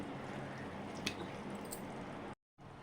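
Chili chicken with tomato and soya sauce stirred in a pan, a steady wet sizzling squish throughout, close and even, cut by a brief gap near the end, with no talking.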